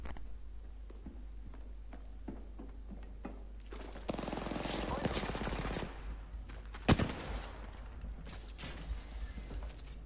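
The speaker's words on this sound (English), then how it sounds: "Somebody's shooting up." Gunfire from the video game Apex Legends crackles in a dense automatic burst through the middle, followed by a sharp single crack and scattered clatter, over a low steady hum with no talking.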